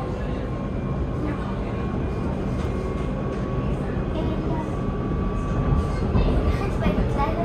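Rumble of a Dutch SLT commuter train riding toward Voorburg, a steady loud rolling drone with rattling throughout, a person talking over it.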